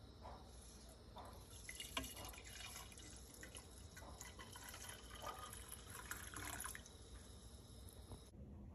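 Drip coffee from a Chemex is poured into a cup, a faint, steady thin stream of liquid with small splashes running for several seconds before stopping abruptly, heard close with no talking.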